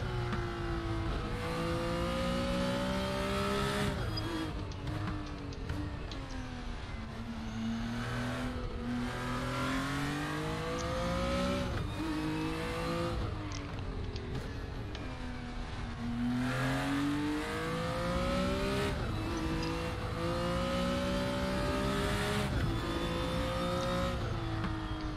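A BMW M1 Procar in the Raceroom racing game howls loudly and continuously, revving up through the gears with repeated rising sweeps and brief drops at each shift.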